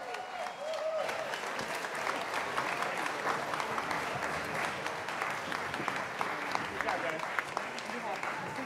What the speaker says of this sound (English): Can we give all of our performers a big round of applause for today's event?